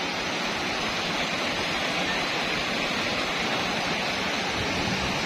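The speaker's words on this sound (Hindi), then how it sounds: "लोगों के घरों के अंदर पानी जा रहा है।" Floodwater after heavy rain in E-11, Islamabad, pouring into houses and basements; a loud, steady, unbroken roar of rushing water that continues alone throughout.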